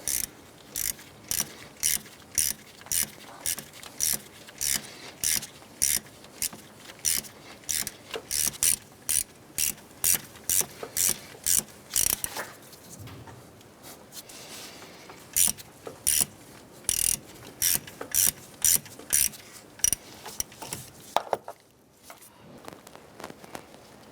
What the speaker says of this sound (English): Let's go ahead and loosen this screw right here.